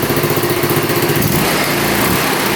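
A $50 scooter engine, its exhaust pipe loose and smoking, idles around 1700 RPM and revs out, giving a loud, buzzy, continuous drone up close with no talk.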